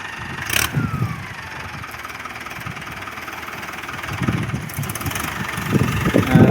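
Diesel engine of a Mahindra Arjun 605 tractor idles steadily outdoors near sugarcane fields, a low continuous rumble that swells slightly louder toward the end, with wind and background noise and no talk.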